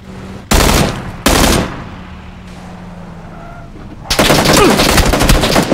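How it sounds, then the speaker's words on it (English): Loud, close rifle shots in the battle royale game PUBG: two sharp blasts early on, then a dense burst of rapid gunfire toward the end, with quieter game ambience in between. "someone's shooting at me"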